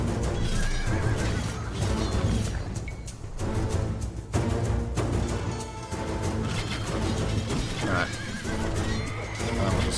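Horses neigh and whinny repeatedly amid hoof clatter, game music and battle noise in an Achaemenid-era strategy game, the calls loud and layered over a dense background.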